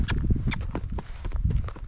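Hooves of a Rocky Mountain Horse flat walking during gaited training, a steady, even clip-clop of close footfalls continuing through the clip with no talk.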